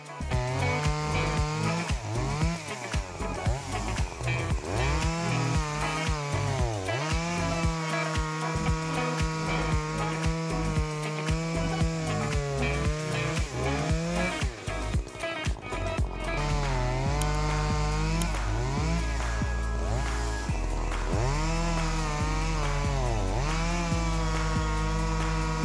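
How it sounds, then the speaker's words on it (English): Logosol F2 Farmer chainsaw mill cutting through large logs, a loud continuous engine whine that rises and falls in pitch as the blade bites, running steadily throughout with no talk. "I believe you will be very impressed with the Logosol F2 Farmer chainsaw because it is an ultra-portable saw that can easily handle logs up to 60 cm in diameter."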